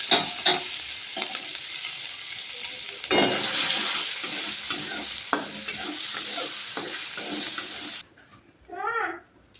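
Grated ginger goes into pointed gourd frying in oil with whole cumin, giving a loud sizzle with repeated stirring scrapes that carries on before the sound drops away near the end.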